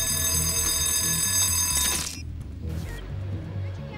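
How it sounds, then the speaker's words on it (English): A building security alarm rings steadily and loudly in a tense break-in scene, its shrill electronic tone suddenly cutting off about halfway through, leaving a lower background rumble. "Alarm's off now."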